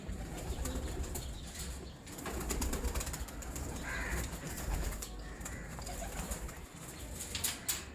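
Pigeons cooing among a keeper's prized old-lineage fancy pigeons, soft murmuring coos and occasional wing flutters blending into a busy, steady background with no talk.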